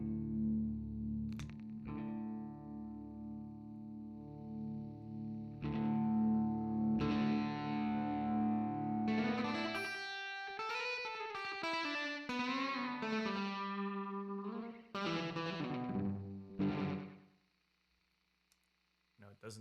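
An electric guitar played through a Plexion effects pedal rings out with distorted, sustained notes and bending pitches, thick with chorus and reverb, the final note fading into quiet.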